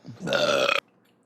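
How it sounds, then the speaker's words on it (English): A single long, loud belch from a person, rumbling steadily for about half a second before cutting off abruptly into near silence. "Make sure to belch on it."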